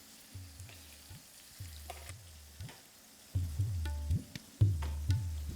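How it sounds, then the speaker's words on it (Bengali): Thin potato slices fry in hot oil in a pan, a steady near sizzle with bursts of crackling that swell louder each time pieces are turned or stirred. "আর যখনই দেখবেন একটা দিকে কালার চলে এসেছে তখন পাল্টে নিয়ে অপর দিকটাই একইভাবে ভেজে নিন।"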